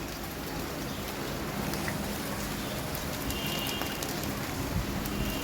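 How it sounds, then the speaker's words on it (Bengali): Steady patter of rain falling on the leaves of potted balcony plants, a continuous soft hiss with scattered drips, fairly close and even throughout. "এই যে বৃষ্টির ফোঁটা পাতাতে পড়ছে, কত সুন্দর লাগছে তাই না?"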